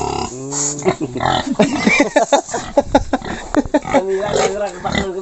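Pigs at a piggery grunt and squeal in a rapid, loud run of rough calls, close by, with voices talking over them.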